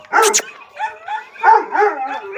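A young pointer puppy barks and yips in short, close bursts, with whimpery cries between them and a brief rough rustle at the start.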